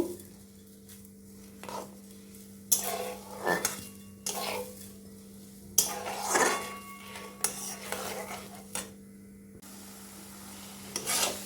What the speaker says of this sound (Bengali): ডালটা দিয়ে এইভাবে নাড়বো, নেড়ে নেড়ে শুকনো করে নিতে হবে।